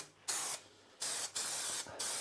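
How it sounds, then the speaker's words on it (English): Spray adhesive aerosol applied to a carpeted stair tread during a stair runner installation, four loud hissing bursts of varying length with short pauses between them, close up. "and then using our adhesive to spray the tread"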